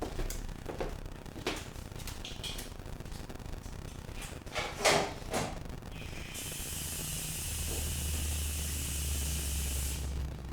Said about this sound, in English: I want to quickly just rinse this out because I hate the feeling of like seafood juices and all that floating around